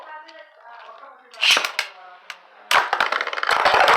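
3D-printed Beyblade spinning tops clash in a stadium, with sharp plastic clicks and rattling impacts ending in a burst finish, a loud clattering of parts scattering; a tonal sound precedes the hits.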